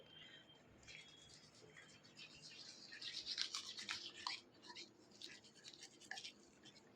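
Toothbrush scrubbing a pet dog's teeth in bursts of soft, quick bristle scratching, close but quiet, with small pauses between strokes.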